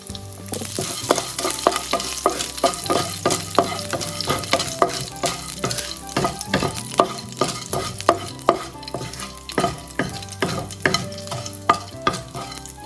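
Urad dal, curry leaves and cumin fry in hot oil for ragi upma, giving a loud, steady sizzle broken by frequent sharp clicks and scrapes as a spoon stirs the pan. No voices are heard.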